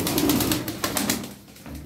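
Fancy cobra-type pigeons coo softly in a loft, a few low rounded calls close by with no talking.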